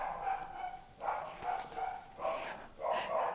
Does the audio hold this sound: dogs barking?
yes